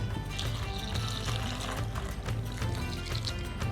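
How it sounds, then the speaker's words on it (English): Liquid poured evenly over vegetables for Iraqi dolma, pouring and trickling continuously, close and fairly steady, with a low background rumble. "you pour them evenly all over the veggies."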